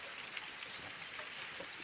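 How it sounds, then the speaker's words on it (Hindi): Light rain falls steadily on an evening while the sun still shines, a soft, continuous hiss of drops with faint patter throughout and no voices. "हल्की हल्की बारिश आने की"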